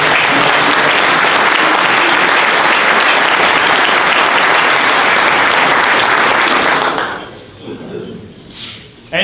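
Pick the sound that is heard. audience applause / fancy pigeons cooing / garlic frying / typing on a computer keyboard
audience applause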